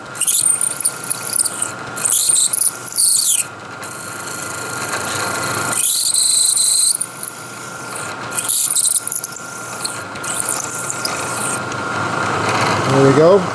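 A drill bores holes through stacked metal blocks clamped in a vise, giving high squealing bursts that start and stop several times, with a motor hum underneath.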